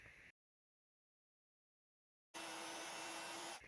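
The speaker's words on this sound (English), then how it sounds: "I'm just going to heat emboss that in white embossing powder onto pink cardstock" Heat tool melting white embossing powder on pink cardstock, a steady blowing hum that cuts off briefly, leaves a stretch of silence, then starts again as a continuous whirring drone with a faint tonal whine.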